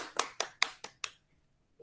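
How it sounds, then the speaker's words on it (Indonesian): Five or six sharp, evenly spaced claps in a classroom, fairly close and brief, over in about a second, followed by quiet. "Tepuk tangan buat Maya semuanya"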